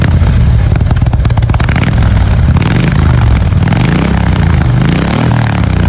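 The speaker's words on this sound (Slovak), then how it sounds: "Tu už môžeš vidieť Harley. Extrémna motorka. Brutálny zvuk" A Harley-Davidson motorcycle engine roars close and loud, revving hard with a rough, pulsing exhaust note that rises and falls throughout, then cuts off abruptly at the end.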